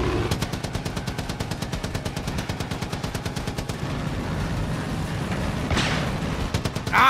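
Rapid bursts of gunshots in Far Cry 5, a fast regular string of sharp cracks for several seconds, then a short pause and a few more shots near the end, loud and close.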